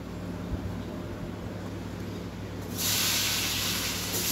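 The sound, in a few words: brinjal (eggplant) frying, hissing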